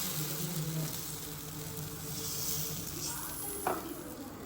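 Mung bean dosa frying with a little oil on a pan, a soft, steady sizzle held close and low, with one brief clink near the end.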